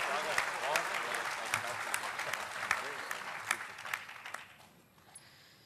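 An audience applauds at a ghazal poetry event, a broad wash of clapping from a crowd with a few voices underneath, fairly distant and gradually fading away near the end.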